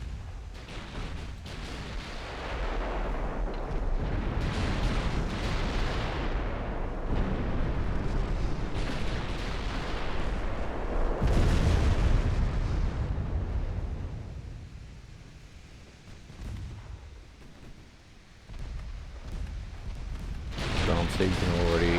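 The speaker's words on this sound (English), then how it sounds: "As you can see, Cleveland here just getting demolished with one salvo from Danzig." Warships in a naval strategy video game fire salvos as a continuous rumble of booming gunfire and explosions, heavy and loud, with a quieter lull before the barrage swells again.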